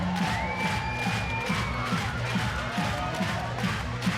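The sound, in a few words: football crowd cheering in Newport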